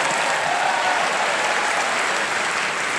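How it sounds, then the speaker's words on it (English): Studio audience on a panel game gives a strong, sustained round of applause, a dense steady clapping from a crowd that holds evenly throughout without talk. "got a very strong round of applause"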